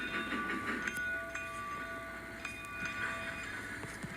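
In a train simulator game, a train picks up speed out of a yard, a steady rumbling rail drone with sustained tonal whine and occasional clicking from the track.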